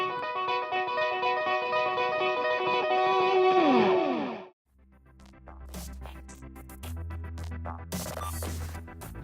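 Electric guitar played with volume-knob swells in a quick sixteenth-note rhythm through delay, giving soft-attack repeating notes with echoing tails, loud and alone, followed by a shorter, busier passage of effected guitar.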